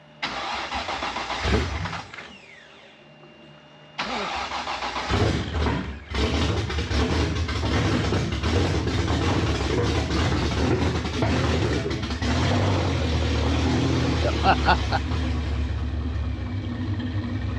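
A car engine cranks briefly, cuts out to near silence, then catches and starts, settling into a steady loud idle with a few revs near the end.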